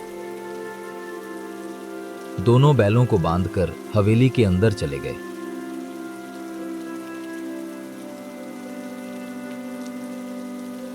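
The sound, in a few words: heavy rain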